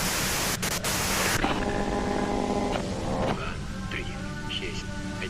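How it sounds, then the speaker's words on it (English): Radio static hisses loudly and steadily in the Disco Elysium video game, with faint tonal hums and a shift partway through. A voice talks faintly under it. "you can do it through the white noise."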